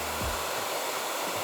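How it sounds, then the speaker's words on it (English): A hair dryer blows steadily in a constant, close, whooshing roar, used to remove gloopy, sticky residue, with no talking. "the hairdryer does a really good job at getting off the gloopy, chunky bits"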